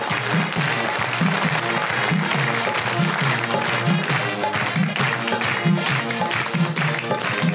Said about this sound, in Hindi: बुलाइए जी, मुरली चौहान, आपकी तालियों में।